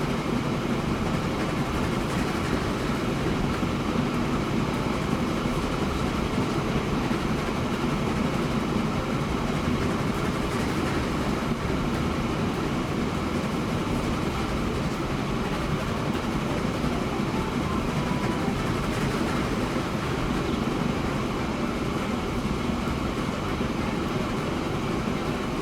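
A slow iron ore train in the video game Transport Fever 2 rolls on with a steady, loud rumbling drone and wheel noise, constant and unbroken across the whole stretch.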